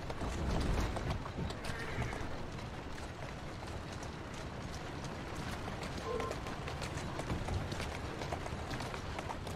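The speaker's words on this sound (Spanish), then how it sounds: "Es un buen caballo." A horse in the video game Assassin's Creed Syndicate gallops with steady, rapid hoofbeats over continuous rumbling noise, and a short neigh rises briefly above the running.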